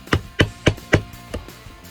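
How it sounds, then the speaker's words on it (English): A small chisel chops a mortise in wood by hand, giving six sharp knocks in quick succession, the last two softer, close by with no talking. "We're going to switch to the smaller chisel"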